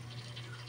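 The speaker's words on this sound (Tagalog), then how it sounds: "ilalagay natin siya ng konting tubig din" Water pours steadily into a pan of hotdogs with ketchup, making a brief, continuous splashing fill sound over a low background hum.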